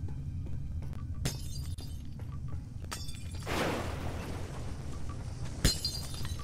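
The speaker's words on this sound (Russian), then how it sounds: "Хорошо ли это стекло-то бить?" Glass shatters in the video game Metro: Last Light, a crashing burst of breaking glass with scattered tinkling fragments, followed by another sharp crack, over low ambient game noise.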